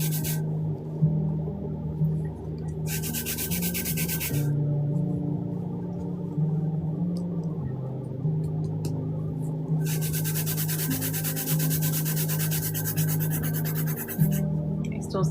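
Hand sanding a glitter-painted surface, a steady close scratchy rubbing with two longer bursts of brighter abrasive strokes, no talking.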